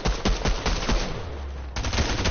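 Rapid video game gunfire, a loud, close rhythmic series of shots in quick succession, pausing briefly before resuming, with no voices.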